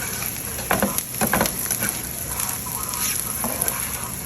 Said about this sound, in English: So I'm just cooking them until they're pretty much sauteed.